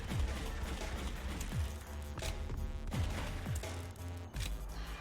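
Gunfire in The House of the Dead Overkill: repeated heavy shots in a steady rhythm, roughly one every second, over a dense, loud backdrop of game noise.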